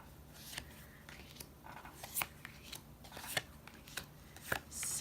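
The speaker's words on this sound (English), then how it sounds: "I'm going to lay them out. 7 cards here." Tarot cards being laid out one by one for a seven-card spread, soft faint slaps and shuffling sounds in irregular bursts, close and quiet.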